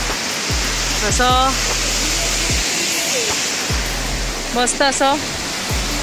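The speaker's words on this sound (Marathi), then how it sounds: "असे छोटे छोटे धबधबे इकडे" Small waterfalls in a green natural setting at Dhumalwadi rush as a constant broadband roar throughout, with a person speaking briefly over the water twice.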